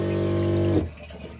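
A 12-volt on-demand water pump feeds a copper sink inside a green camper van, giving a steady close-up motor hum with running water for under a second before it cuts off, leaving only a faint trickle.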